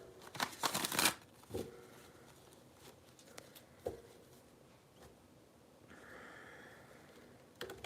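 Tarot cards are shuffled in a quick burst of papery riffling, followed by softer intermittent card slides and taps, close and fairly quiet.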